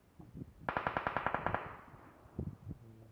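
A burst of about ten evenly spaced M16 rifle shots in PUBG Mobile, sharp and fairly close with a ringing tail, with a few softer thuds before and after.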